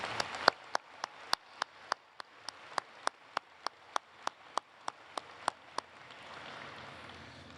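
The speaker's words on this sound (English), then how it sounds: "how about a round of applause?" At a university commencement ceremony, a series of sharp, evenly spaced claps rings out close by in a steady beat, sparse rather than a full crowd, then stops and leaves a soft room hiss.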